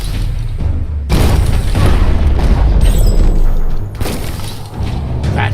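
A bomb locker explodes in the video game Biomutant, a loud booming blast with crashing debris that holds for several seconds, then a second burst follows.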